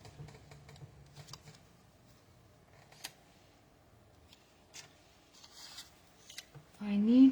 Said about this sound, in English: I'm going to need to cut this guy out